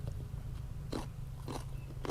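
Crisp bites into a fresh garden pepper, three close crunching snaps spaced about half a second apart over a low steady background hum.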